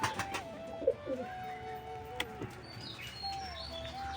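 A Kaldam pigeon in a loft gives a few soft, close throaty coos and short calls over a quiet background, with a couple of light knocks and no voices.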